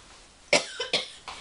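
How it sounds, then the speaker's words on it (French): A couple of short, close coughs in quick succession, followed by a fainter one, against a quiet background. "Excusez-moi, je tousse"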